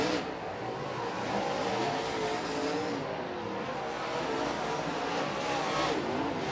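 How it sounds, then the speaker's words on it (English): Modified race cars roar around the East Bay oval during a hot lap session, a steady, dense wall of engine noise that swells as cars pass close by, with no break in the sound. "Hot lap session number 1 getting ready to come back to green as drivers get the green here in hot lap"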